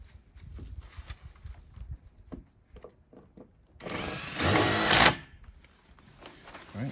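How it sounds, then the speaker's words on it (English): A power drill pre-drills a hole in a fence post during a no-dig fence installation, whirring loudly in one burst of roughly a second that rises in pitch, set against quieter outdoor work noise. "Pre-drill the hole for it."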